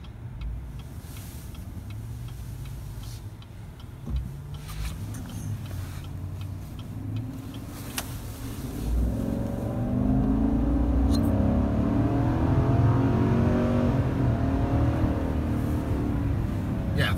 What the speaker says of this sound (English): I just love a good V8, and it feels really right in this truck